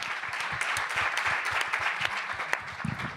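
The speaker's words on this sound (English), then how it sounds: "Can you give them a round of applause just for being here," An audience at a political participation event applauds panelists with moderately loud, sustained clapping, individual sharp claps standing out from the steady roar.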